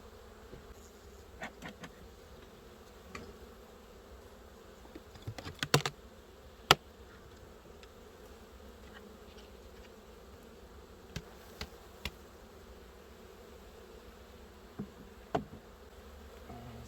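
Honeybees hum steadily at an opened hive during a first spring brood inspection, a faint, continuous low drone punctuated by occasional sharp clicks and knocks, with no talking.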